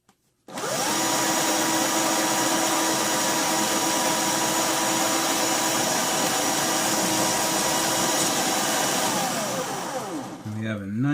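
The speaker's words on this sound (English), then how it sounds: "now we just want to clean it up with the sandpaper" A steady, loud, close machine whine runs for about ten seconds while a metal security pin is cleaned up with sandpaper, then winds down near the end.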